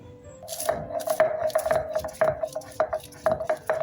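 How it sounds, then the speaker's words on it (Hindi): Green chillies being ground by hand for kohda sabji, a quick run of close, repeated knocking strokes with a ringing metallic tone, steady in rhythm and heard alone without speech. "अब हम इसके बाद हरी मिर्च को पीसना स्टार्ट करेंगे।"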